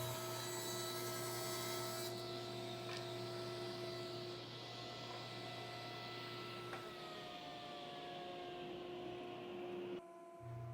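A wooden panel 600 thou thick is trimmed to width on a machine, which gives a sustained, droning hum with steady tonal whine and a grinding cutting texture that runs loudly for about ten seconds before dropping off at the end.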